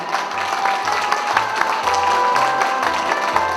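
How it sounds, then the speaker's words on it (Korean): Audience applause at the opening ceremony of the 2023 Gwangju Able Art Fair, an art exhibition, welcoming the operating committee chair; steady, dense clapping fills the room throughout, with low thumps from the hall underneath. "큰 박수가 필요할 것 같습니다"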